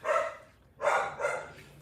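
A dog named Henry, fourteen years old, gives a few barks, two or three bursts close by and fairly loud, with short gaps between them.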